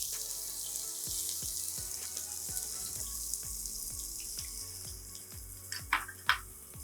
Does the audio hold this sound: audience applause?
no